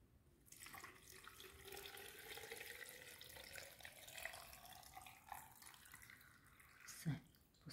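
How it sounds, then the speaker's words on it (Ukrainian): Water is poured into a three-litre glass jar of tomatoes being pickled in brine in a kitchen, a faint continuous trickling splash with a small bump near the end, heard close but quietly. "І доливаємо воду."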